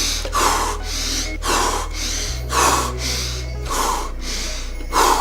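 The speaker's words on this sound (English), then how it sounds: "Pranayama is breathing." Forceful rhythmic pranayama breaths, a series of about five sharp nasal exhalations or inhalations repeating roughly every second, loud and close, with a steady low hum underneath and no talking.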